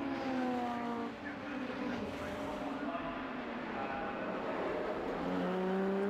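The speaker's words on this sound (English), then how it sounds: "Cars wind their way up towards Druids." Lotus Cup race cars lapping Brands Hatch circuit, climbing toward Druids, their engines droning and shifting pitch continuously at mid distance beneath a commentator's voice.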